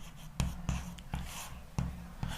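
Chalk or marker taps and scratches while an equation is written on a board, with about five short knocks at irregular intervals, close and quiet, without speech.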